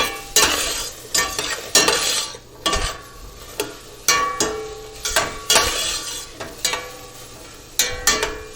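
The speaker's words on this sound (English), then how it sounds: "we're going to saute them for a bit, and then we're going to let them sweat" Vegetables for matzo ball soup sauté in a pot, a soft sizzle under repeated rhythmic scrapes and clacks of a spoon stirring against the pot, close and fairly loud.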